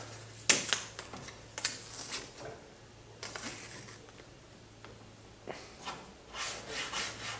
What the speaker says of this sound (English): put some masking tape on the area where I'm gonna drill on both sides